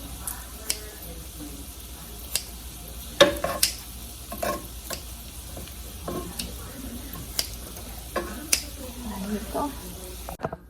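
An eggplant omelette fries in a pan with a soft continuous sizzle, punctuated by irregular clicks and scrapes of a utensil stirring and turning it, fairly close and moderately quiet.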